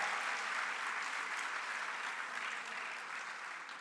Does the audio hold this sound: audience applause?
yes